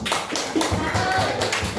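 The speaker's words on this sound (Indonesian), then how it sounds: "Beri tepuk tangan untuk kelompok" Schoolchildren in a fifth-grade class at an Indonesian primary school clap for a group, a dense patter of hand claps mixed with children's voices running through the whole moment.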